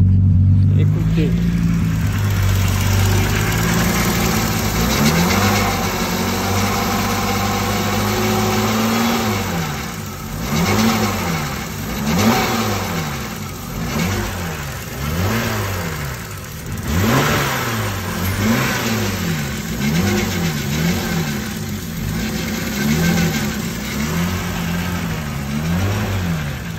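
Turbocharged BMW E36 engine idling and then revving, with rhythmic rises and falls in pitch over a steady rumble, close and loud.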